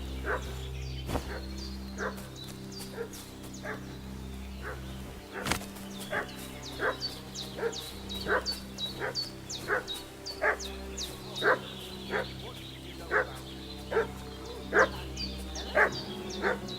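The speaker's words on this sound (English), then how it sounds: "What's that dog making such a fuss about?" A dog in the medieval game Kingdom Come Deliverance II barks in a steady, repeated series of sharp yips, one roughly every second, with a couple of louder distant thumps early on over a low ambient hum.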